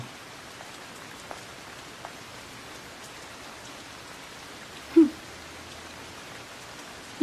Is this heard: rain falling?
yes